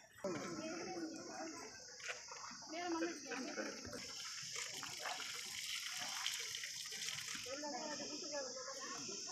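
At a tree-planting ceremony in a village near Pudukkottai, water pours and splashes onto a freshly planted sapling. The flow sounds steady and fairly faint, with people talking and the ambient noise of a crowd outdoors.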